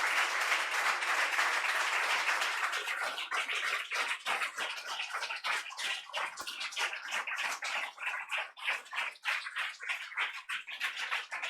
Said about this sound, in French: Est-ce qu'on peut acclamer Dieu pour nos enfants?